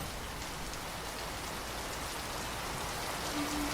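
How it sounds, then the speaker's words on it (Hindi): Heavy rain pours steadily on a village, a dense, even hiss of drops on surfaces lasting throughout at constant loudness, with no voices. "और बारिश तेज़ हो रही है।"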